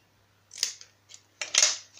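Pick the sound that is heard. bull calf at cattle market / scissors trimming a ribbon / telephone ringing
scissors trimming a ribbon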